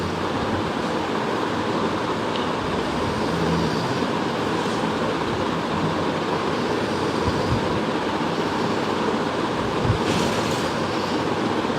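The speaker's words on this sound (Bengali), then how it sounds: "এখন আমি পেঁয়াজগুলো ছেড়ে দিচ্ছি" Sliced onions hit a pan of already-fried garlic while cooking a fish curry with potato and eggplant, giving a steady, close, continuous sizzle with no talk.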